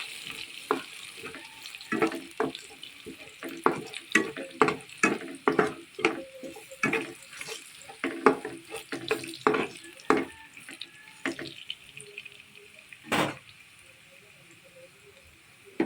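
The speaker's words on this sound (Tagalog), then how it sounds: "Pinagprituhan ng balon-balunan, pwede natin ilagay ang bawang. Halu-haluin natin." Chopped garlic frying in oil left from cooking chicken gizzards, stirred with quick, irregular scraping and clinking strokes against the pan over a low sizzle, busy at first and then thinning out.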